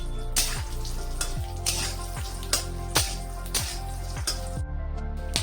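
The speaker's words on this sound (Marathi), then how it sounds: "आता हे अक्रोड टाकून घेते, अक्रोडही 2 मिनिटं चांगले भाजून घेते" Walnuts roasting in a pan while being made into gum laddoos, a steady dry sizzle broken by repeated sharp scraping strokes of a spatula, close and fairly loud with no talking.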